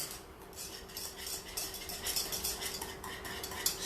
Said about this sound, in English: we're using a whisk to try and break up some of the lumps